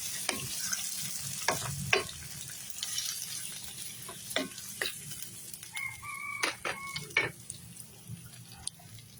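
Squid sizzles steadily in a hot pan, with scattered clinks and scrapes of stirring over the frying and a rooster crowing briefly in the background partway through.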